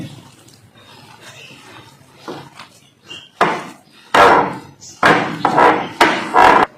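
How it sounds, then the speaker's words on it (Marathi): Onion bhaji batter of coarse gram flour and rice flour is mixed by hand in a bowl, giving soft squelching and scraping strokes that grow louder and come in bursts toward the end, with no talk. "आता हे सर्व मिश्रण छान एकजीव करून घ्यायचं आहे"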